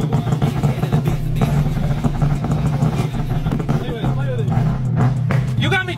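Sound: car engine revving with loud exhaust, two-step launch

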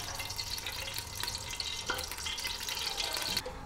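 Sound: bay leaves, cloves, black pepper, fenugreek frying in oil

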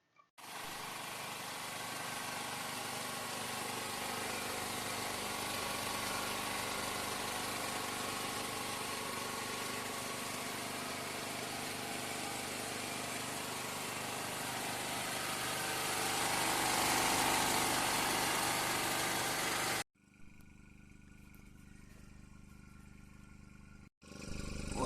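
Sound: petrol generator running

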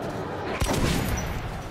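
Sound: shotgun fire in video game Metro 2033

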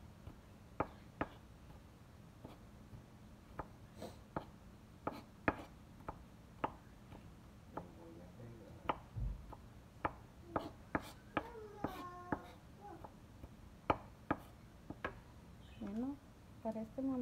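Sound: knife chopping garlic and onion

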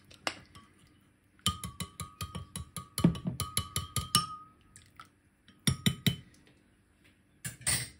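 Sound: spoon stirring honey drink in a cup

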